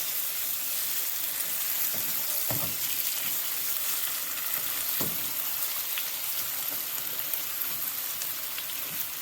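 Big chunks of lamb for a stew sear in a pan, a constant, dense sizzle like steady rain, with occasional soft knocks and pops and no voices.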